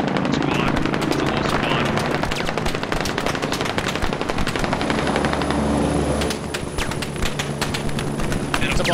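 Rapid gunfire crackles through a video game airfield assault, with dense, steady bursts of automatic fire near and far and a helicopter-like rumble underneath.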